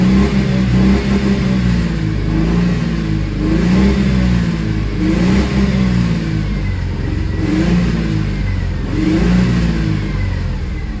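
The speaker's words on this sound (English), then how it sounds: "I'll rev it up a few times and just get that carbon out of there" A car engine, freshly treated with Seafoam throttle body spray, revs repeatedly in loud rising and falling sweeps, several blips close by with a steady idle rumble between them.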